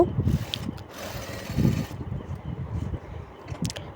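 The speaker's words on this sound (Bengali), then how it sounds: "তারপর আমরা কাঁধের পাশটা এইভাবে সেলাই বসিয়ে দেব" A sewing machine stitches the shoulder seam of a blouse with a low, rhythmic mechanical whirr that pulses in short runs, fairly close and moderately loud, with no talking.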